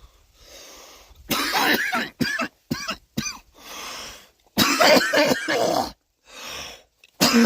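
A person nearby coughs hard in a series of loud, raspy bursts, some short and choppy, others longer and harsher, separated by brief silences and a quieter throat-clearing rumble.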